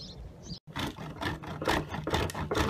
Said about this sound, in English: the first thing we've got to do is take our beeswax and grate it down into finer grains so we can melt it down